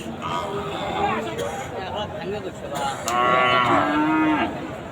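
People talk at a busy outdoor cattle market, then a bull lets out a long, loud moo near the end.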